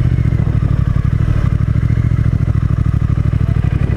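A Triumph Thruxton R motorcycle engine runs steadily up close, its low rhythmic thrum pulsing evenly with some clatter and wind rumble, no voices.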